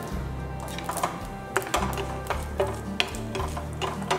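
Mustard seeds and urad dal with dried red chillies crackle in hot oil for a Tamil tempering, a steady close sizzle with irregular pops and the scrape of stirring.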